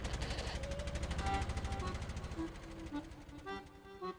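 A rapid, steady volley of loud cracking bangs, like a string of fireworks going off among houses and rooftops, thinning into sparser pops toward the end.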